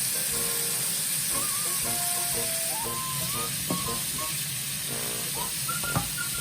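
An ingredient for pasta carbonara sizzles steadily in a pan over medium heat, a constant loud frying hiss with faint stirring touches and no talk.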